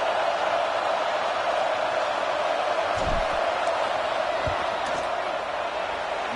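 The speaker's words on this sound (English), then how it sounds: "This crowd trying to do its part to get inside the kicker's head." A college football video game stadium crowd roars steadily in a dense, loud wash during a field goal attempt, with a couple of low thumps and a commentator's voice over it.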